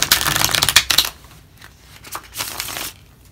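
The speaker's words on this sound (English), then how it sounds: "I did pre-shuffle, so I'm not going to go crazy with the shuffling" Tarot cards being shuffled by hand in brief bursts, a couple of crisp riffling, papery flurries close up with quiet gaps between them.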